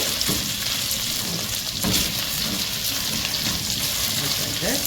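Ginger garlic paste sautés in a pot, giving a steady, close crackling sizzle with occasional stirring scrapes, loud and unbroken throughout.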